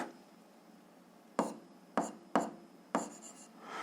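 Notes are handwritten on paper in four short scratchy pen bursts, close and quiet, over a faint room hush with no talking.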